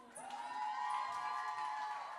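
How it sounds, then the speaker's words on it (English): An audience at a youth brands awards media launch cheers and applauds, with a steady wash of crowd noise, whoops and shouts that continues evenly throughout the clip. "Please give her a round of applause one more time."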